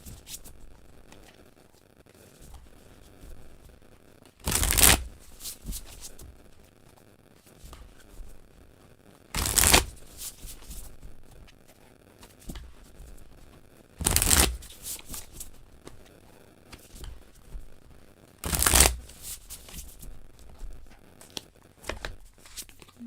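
Tarot cards being shuffled in four sharp, crisp riffling bursts spaced about five seconds apart, with quiet handling rustles between them and no speech.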